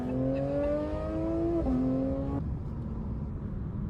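A Porsche GT3 RS engine revs through a U-turn, a loud, high, rising whine that climbs through gear changes and then cuts off abruptly into a lower rumble.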